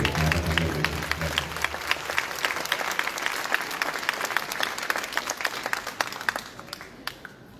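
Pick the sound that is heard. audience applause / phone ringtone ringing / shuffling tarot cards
audience applause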